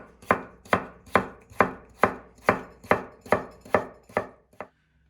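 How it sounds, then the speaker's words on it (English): Potatoes being sliced with a knife on a board for a Spanish omelette: ten crisp, evenly spaced chops at a steady rhythm, close and clear, ending with a lighter final cut and no voices. "start off by slicing our potatoes"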